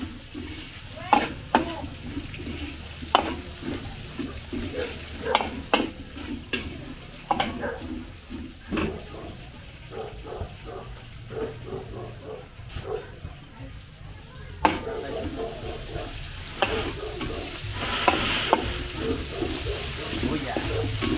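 Garlic frying in a pan for pancit canton with bihon gives a steady sizzle with scraping stirs and clinks of a utensil, close by, with a person talking over it.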